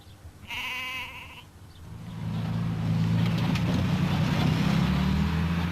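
Sheep, draft ewes brought down from the Plynlimon mountain pasture, let out one clear bleat close by, followed by a rising, steady rumble of vehicle or machinery noise.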